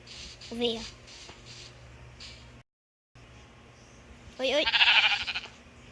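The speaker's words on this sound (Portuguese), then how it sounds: "Ovelha." A sheep in a survival video game lets out two short wavering bleats, one near the start and a louder one toward the end, over a steady low game-background hum.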